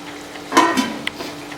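A utensil scrapes and stirs tapioca biryani in a pan over low heat a couple of times, with a brief metallic tap and light sizzling nearby.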